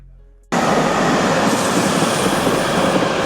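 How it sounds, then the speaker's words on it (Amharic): A train suddenly roars up close, starting abruptly after a brief quiet moment at a German station platform, then rumbling loudly and steadily with rail noise. "ሁለት ባቡር ነው ያኛው ይሄኛው ነኛ።"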